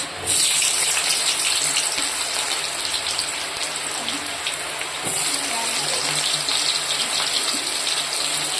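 Onions hit hot oil for chilli paneer and set off a loud, steady sizzling hiss that starts abruptly, then flares up again partway through as more oil spatters, with no voices.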